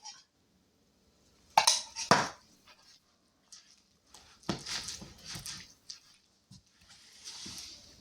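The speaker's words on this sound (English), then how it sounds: "let me grab a different spoon so I don't get coconut all in this can" A spoon is picked up and knocked and scraped against an opened can of coconut, giving close, scattered clinks and scrapes in short bursts between moments of quiet.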